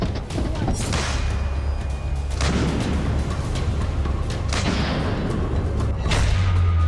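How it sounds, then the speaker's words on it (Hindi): Several heavy booms and crashes of explosions and artillery fire ring out across Bakhmut at night, some distant and echoing, over a steady low rumble. "रात के वक्त भी बाखमुत में धमाके नहीं रुकते।"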